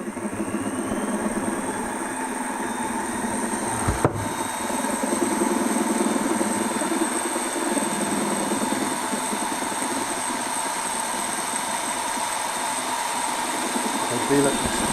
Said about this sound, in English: Now the next step is to polish this other bore with 400 grit.